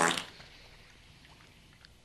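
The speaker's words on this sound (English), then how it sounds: "It's about the fart in the darkness." A single short fart bursts out at the start in a dark, quiet room, then fades into near silence with faint distant sounds.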